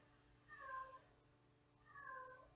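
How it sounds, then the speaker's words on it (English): A cat meows twice in the background, each call drawn out and rising and falling, quiet and somewhat distant, with a lull between the two calls. "he's meowing right now in the background"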